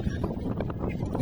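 A light breeze blows at a window viewpoint in a scenic area near Baisha town, Yangshuo, Guilin, making a soft, steady rumble of wind against the microphone. Faint voice-like murmurs sit beneath it.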